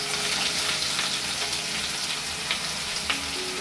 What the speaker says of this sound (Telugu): ఈ కాకరకాయ అంతా ఆయిల్లో చాలా బాగా ఫ్రై అవ్వాలి, అప్పుడే కూర బాగా కమ్మగా వస్తుంది.